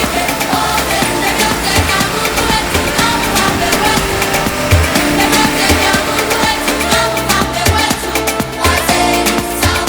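A four-wheel drive truck with oversized tyres drives off-road through clay in the Congo, its engine droning loud and steady close up with constant rumbling and clattering throughout.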